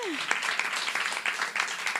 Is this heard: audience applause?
yes